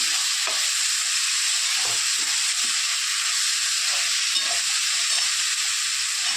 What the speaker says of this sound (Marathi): दोन मिनिटं आपण परतून घेणार आहोत।